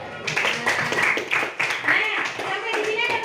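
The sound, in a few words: classroom clapping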